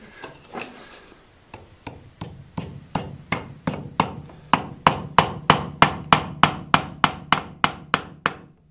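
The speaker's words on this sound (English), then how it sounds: "I can just hammer them in" Sharp hammer taps driving brass pins into wood for Japanese geta sandals, slow and uneven at first, then settling into a steady, fairly close rhythm of about twenty strikes.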